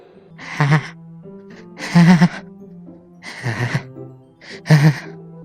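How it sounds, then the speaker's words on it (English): Sharp, breathy inhales sound again and again in the Doki Doki Literature Club video game, about four gasping bursts a second or so apart, close and loud, with a low tonal hum held beneath them. "Oh, it's like a sharp inhale, like something sucking"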